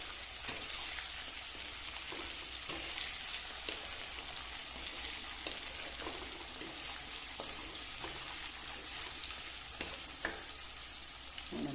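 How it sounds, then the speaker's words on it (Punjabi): Carrots being stirred in a pan of hot oil for pickle: a dense, constant frying hiss with light stirring taps and crackles throughout, close and even in loudness, with no voices. "ਪਹਿਲਾਂ ਆਪਾਂ ਗਾਜਰਾਂ ਪਾ ਕੇ ਇਹਨਾਂ ਨੂੰ ਚੰਗੀ ਤਰ੍ਹਾਂ ਹਿਲਾਵਾਂਗੇ"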